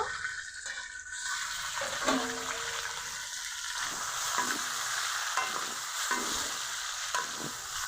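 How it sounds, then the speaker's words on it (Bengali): Chicken pieces fry in oil for parboiled-rice biryani, giving a steady, close hiss of sizzling. Occasional scraping stirs break through now and then. "এখন আমি নিব এভাবে বাকি চিকেনগুলোও ভেজে নিব"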